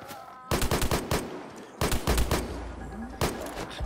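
Rapid bursts of automatic gunfire in the mobile shooter game Lost Future, three loud volleys of closely spaced shots separated by brief pauses, with no talking over them.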